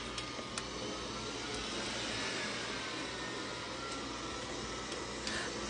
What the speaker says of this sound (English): that's my AI vacuum cleaner that's starting